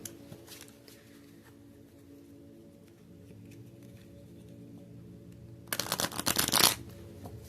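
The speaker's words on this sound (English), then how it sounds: "I'm just going to shuffle them a little bit." Playing cards shuffled by hand during an indoor card reading: a quiet room with faint handling, then a loud, close riffle burst lasting about a second near the end.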